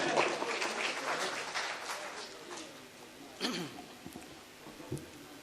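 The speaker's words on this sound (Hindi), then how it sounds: "एक बार ज़ोरदार तालियां उनके लिए बजाएं।" Applause from the audience at a kavi sammelan and mushaira poetry gathering, loudest at first and then fading to scattered claps, with some voices and crowd noise mixed in.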